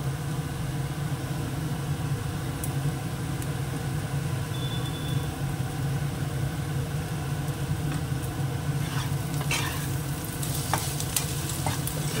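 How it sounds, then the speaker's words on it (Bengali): Chopped onion and potatoes fry in a pan with a dense, continuous close sizzle and occasional light scraping clicks from stirring, no voices. "এবার এর মধ্যে দিয়ে দেবো পেঁয়াজ কুচোনোটা, তাহলে পেঁয়াজটা ভাজাও হয়ে যাবে, সেদ্ধও হয়ে যাবে।"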